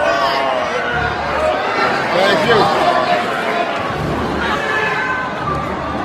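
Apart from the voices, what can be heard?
rowdy audience crowd noise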